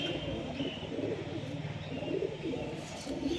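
Carrier pigeons, including young birds, cooing in a low, continuous, overlapping murmur that stays close and steady throughout.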